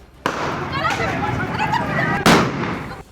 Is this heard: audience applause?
no